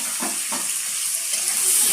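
Onion, chili and tomato frying in a pan for egg curry, a steady close sizzle with a couple of soft stirring scrapes near the start.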